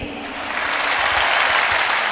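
A crowd breaks into loud, dense applause, swelling quickly and continuing steadily.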